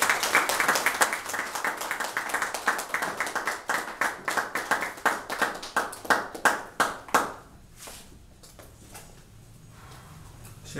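Audience applause at a departmental chairman's investiture ceremony, a group clapping in a loose, fairly steady rhythm for about seven seconds before fading into quiet room tone.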